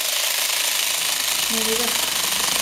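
A steady, rapid mechanical buzzing of an addiQuick electric needle felting tool punching into polyfoam, continuous and close, with a brief murmur of voice partway through.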